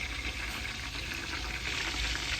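Spices sizzle and crackle in hot oil, a dense, steady frying hiss heard up close and fairly loud.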